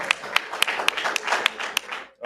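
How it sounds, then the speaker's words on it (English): Scattered audience clapping at a live US coin auction after a lot sells, a few sharp distinct claps over a brief stretch before the room quiets. "Hey, we can clap for that. Can we clap for that?"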